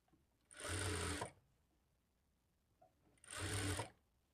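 A sewing machine stitching blouse fabric runs in two short, even bursts of fast whirring motor and needle chatter, about a second each, separated by a quiet pause.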